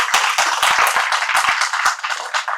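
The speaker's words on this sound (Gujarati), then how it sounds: "ખૂબ તાળીથી એમનું સન્માન કરીએ" Audience at a Gujarati literary gathering clapping to honour two speakers, a brief burst of dense, loud applause from many hands, close and continuous without any talk.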